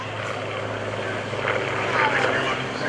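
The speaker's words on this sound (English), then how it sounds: "There's the airplane in the Air Force colors." A T-34 Mentor propeller plane in Air Force colors flies at the Greenwood Lake airshow, its engine droning steadily at a moderate distance while a commentator talks over it.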